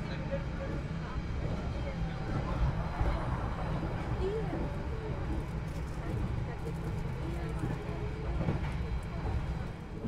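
K316 economy carriage on the Kertanegara train near Kertosono on the Kediri line, rolling steadily on rails with a continuous low rumble and rattle, talk heard over it.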